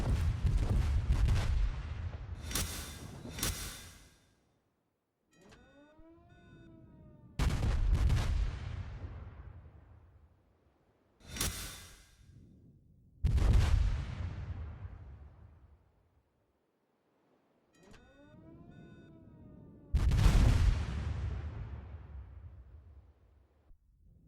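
Heavy naval guns from a World of Warships destroyer fire in loud booming salvos aimed at a Cleveland cruiser, four big blasts with rumbling decay between them and whistling shell flight in the quieter gaps.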